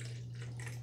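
Water pours steadily into the reservoir of a PowerXL Grind and Go Plus coffee maker, a short, even, splashing stream under a low constant hum, with no talking.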